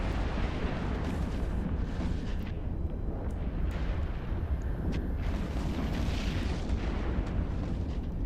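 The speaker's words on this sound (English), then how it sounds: "All those missiles hitting that shield." Missiles striking ship shields in EVE Online, a dense continuous rumble of overlapping booms and impacts with scattered sharper pops, steady and loud throughout, with no talking.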